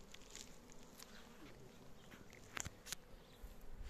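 Bees hum and buzz close by in a continuous drone, with a few sharper crackling taps and knocks breaking through near the end.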